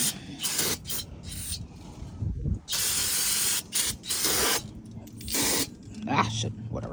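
Brake cleaner is sprayed onto the rear brakes of a Chevrolet Silverado in repeated loud hissing bursts, several short and long blasts with brief gaps between them, close to the microphone.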